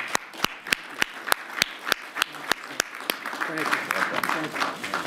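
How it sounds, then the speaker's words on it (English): Clapping at a ceremony honoring two police officers, starting as slow, evenly spaced claps and swelling into denser, fuller applause from the gathered audience near the end. "I think they deserve our applause"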